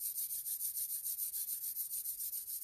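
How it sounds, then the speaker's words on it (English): Palms rubbing briskly together in a quiet guided meditation, a steady back-and-forth rhythm of soft, close hissing strokes, about four per second, continuing evenly throughout with no talk. "rub your hands together."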